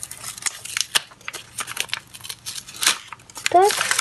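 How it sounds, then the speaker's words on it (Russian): A small paper surprise packet being opened by hand, close crinkling and rustling of paper with sharp tearing bits, continuous and fairly loud over a few seconds. "у нас остался один пакетик. Открываем его."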